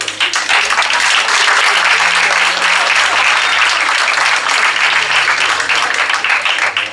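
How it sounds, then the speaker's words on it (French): A crowd at a pastry competition gives the judges a loud, dense, sustained round of applause, close and steady from start to finish with faint music underneath. "Une bonne main d'applaudissements pour les juges"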